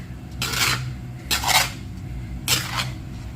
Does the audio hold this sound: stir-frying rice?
yes